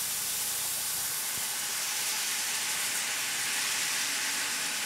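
Corona beer sautes in a hot pan with a steady, loud hissing steam that stays even and unbroken throughout, heard close with no talking.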